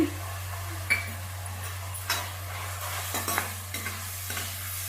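Tomato mixture with chilli powder stir-frying in a pan, a steady close sizzle with scraping stirs and occasional utensil clinks against the pan, no voices.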